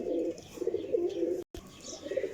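Pigeons from a champion breeder pair coo softly in a low, repeated murmur, close by and fairly quiet, broken by a brief silent gap.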